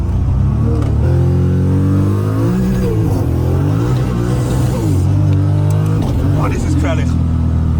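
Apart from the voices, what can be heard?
1000HP Toyota Supra accelerating with wheelspin on wet track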